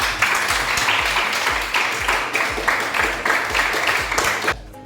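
Students in a classroom applaud together, a dense, loud burst of clapping that holds steady for over four seconds and then stops abruptly.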